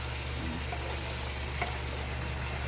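Adobong rikta, a pork adobo, frying in its own rendered fat, giving a steady, even sizzle and crackle that runs close and unbroken, with no one talking.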